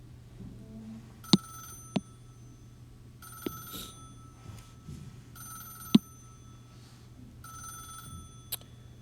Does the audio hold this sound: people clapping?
no